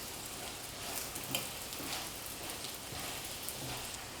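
A chive pocket pastry frying in a pan gives a faint, even, rain-like sizzle with small crackles and a soft scrape or two as it is turned, steady throughout.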